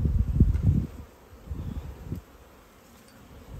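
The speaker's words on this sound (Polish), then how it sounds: "Tutaj zobaczcie, jaki piękny oblot młodej pszczoły." Young honeybees circling a wooden hive on a winter orientation flight, a low close buzzing in short bursts that swells and fades as they pass near.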